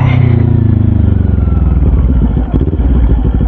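A Kawasaki Z400 motorcycle engine fitted with a new tire, loud and close, with a deep throbbing rumble and uneven pulsing as the revs rise and settle, ending in choppy bursts.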